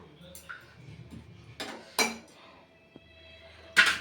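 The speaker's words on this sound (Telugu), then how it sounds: "మూత పెట్టేస్తాను." A metal lid is set onto a pot of chicken curry, giving sharp clanking clinks and scrapes, the loudest at the end, amid quieter kitchen handling sounds.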